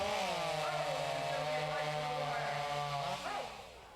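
A chainsaw roars at full throttle as it cuts through timber at a timber sports competition in Hopkinton, New Hampshire, a loud, steady buzzing whine that dips as the cut finishes.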